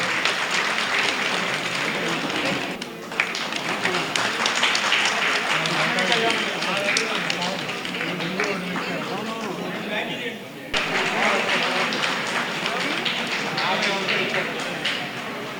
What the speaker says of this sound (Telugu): వెన్నంపల్లి జగన్మోహన్ శర్మ గారిని మీ అందరి చప్పట్లతోటి వారిని సత్కరించే విధంగా ప్రయత్నించండి